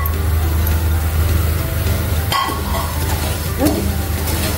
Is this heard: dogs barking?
no